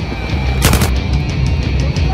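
Light machine gun fire rattles in the Battlefield video game, loud and dense, with a sharp burst of shots standing out over constant gameplay noise.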